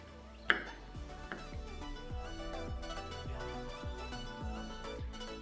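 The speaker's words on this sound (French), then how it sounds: "on hache tout ça grossièrement, franchement, à la va-vite, on s'en fiche" A knife roughly chops cashew nuts on a board, giving a steady series of close, sharp thuds at a brisk, slightly uneven pace after one louder opening knock, with no talk over it.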